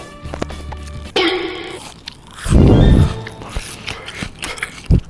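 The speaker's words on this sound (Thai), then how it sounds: "อยากให้ทุกคนได้ยินความกรอบของปลาดุกฟู" Crunchy bites into crispy fried fluffy catfish from a Thai yum salad, a loud crackling burst mid-clip followed by a few smaller crunches, close to the mic with no talking.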